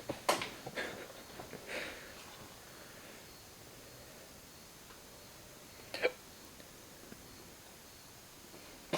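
A few faint, sharp hiccups during an indoor whiskey tasting, spaced seconds apart over a quiet room background, with no talking.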